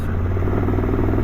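A Triumph 1200 Rally Explorer motorcycle cruising in fourth gear at about 2,000 rpm, its engine giving a steady low drone with constant wind rush, with no speech.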